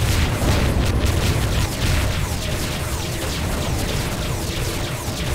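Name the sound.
bomb explosions in a video game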